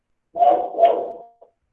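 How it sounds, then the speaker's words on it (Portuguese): A neighbour's dog gives a single muffled, two-part bark or yelp, moderately loud and slightly distant, followed by a tiny trailing whine, with no talk over it. "O cachorro do vizinho aqui que não ajuda."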